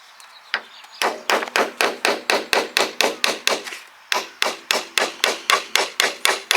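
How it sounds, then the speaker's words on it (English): Repeated sharp hammer blows driving nails through a metal shed roof sheet into wood, in a steady rhythm, each a bright metallic bang with a short ring, close by, pausing briefly midway before continuing. "am I able to hammer them straight through the metal into the wood"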